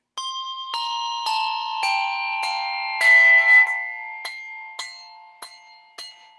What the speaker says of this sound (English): how many of you try to do the bell tree and end up with a dead bell?